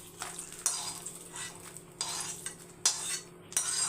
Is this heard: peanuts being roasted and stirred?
yes